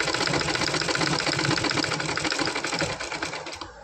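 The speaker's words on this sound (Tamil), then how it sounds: "எம்மிங் பண்ணாமல் அப்படியே தையலாகவே மிஷின் தையலாகவே போட்டுன்னு வரேன்." A sewing machine stitching a blouse runs in a fast, steady, close mechanical whir of rapid needle strokes, slowing near the end, with no talking.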